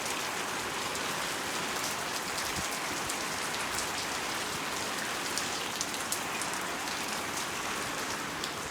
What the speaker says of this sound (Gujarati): હવે વરસાદ ચાલુ થયો.